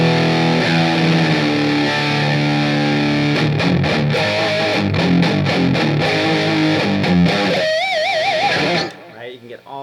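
Heavily distorted electric guitar in a metal tone, driven through two stacked distortion pedals and an amp, plays sustained chords and then choppy rhythmic stabs before ringing out into a wavering note; loud and close.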